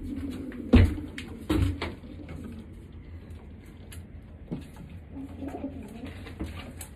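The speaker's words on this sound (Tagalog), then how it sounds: "Papakita ko na po yung mga ibon na binayback po ni Mr. Nakamura galing po sa OLR." Racing pigeons coo softly and repeatedly in the background, accompanied by a few sharp thumps and knocks nearby.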